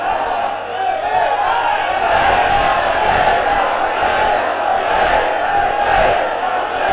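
A huge crowd at a religious gathering chants Labbaik slogans in unison, a loud, continuous roar of massed voices with rhythmic surges, filling the whole stretch.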